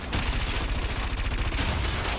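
Dense, rapid cannon fire from a racing ship in the futuristic game Wipeout 2048, a continuous loud barrage of overlapping blasts lasting about two seconds.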